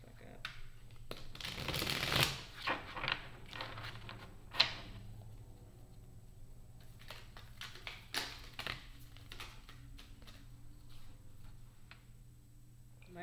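Tarot cards being shuffled and drawn, with a brisk shuffling burst early on followed by soft scattered taps and card slides, close and fairly quiet, with muffled talk at times.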